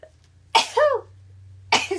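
A single sneeze bursts out loud and close, with a short sharp intake and explosive release, followed by a second smaller burst a moment later.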